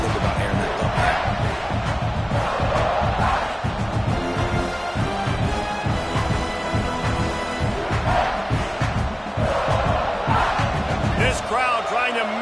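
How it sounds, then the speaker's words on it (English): A stadium crowd roars in the College Football 26 video game, loud and sustained with surging swells, while a commentator talks over it. "This crowd trying to make life miserable for this offense."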